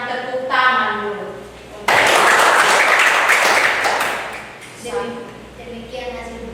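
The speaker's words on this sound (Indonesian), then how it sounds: "Kita berikan tepuk tangan dulu." Students in a classroom break into loud, dense applause after a group presentation, a burst of clapping lasting about three seconds, with a voice speaking just before and after.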